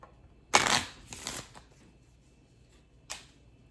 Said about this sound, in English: Your first job is to shuffle your cards.